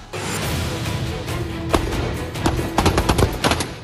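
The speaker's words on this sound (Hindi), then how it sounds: "सामने टारगेट और टारगेट पर दागी जाती गोलियां।" Rapid gunfire crackles in quick bursts at a distance during a joint India–Vietnam army exercise firing at targets, shots overlapping with sharp single reports standing out toward the end.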